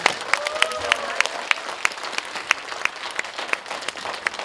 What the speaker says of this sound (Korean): 김성환 부총장님께 다시 한번 뜨거운 박수 부탁드립니다